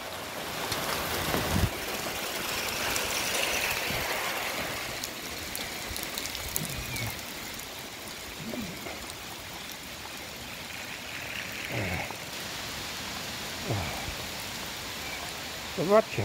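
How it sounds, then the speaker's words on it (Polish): Heavy rain and water pouring off a roof during a windstorm, a loud, continuous rushing wash with intermittent splashes and gusts, while people talk and laugh nearby now and then. "A zobaczycie, jak woda leci z dachu."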